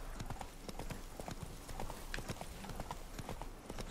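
Horse hooves clip-clop at a brisk trot in the video game The Witcher 3: Blood and Wine, a steady rhythmic patter of hoofbeats, quiet and continuous, with faint speech in the background.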